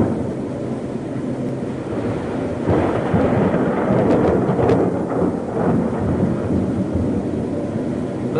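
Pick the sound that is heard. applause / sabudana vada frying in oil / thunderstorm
thunderstorm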